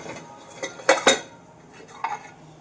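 Metal vessel set down inside a pressure cooker holding water while making ragi kali, giving a few sharp clanks and clinks close by, with the loudest pair in the middle and a lighter knock near the end.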